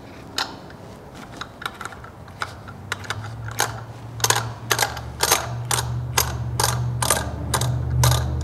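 A thread tap cuts into the front case of a CAT C15 engine for a Helicoil repair, worked in and backed out. It makes a steady run of sharp metallic ratcheting clicks, close and fairly loud, over a low background hum, with no talk.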